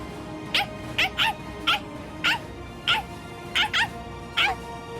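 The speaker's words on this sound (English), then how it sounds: "That's the dog." A dog in a Bleach video game cutscene lets out about nine short, sharp yelping barks in irregular bursts, close and clear over a faint low background hum.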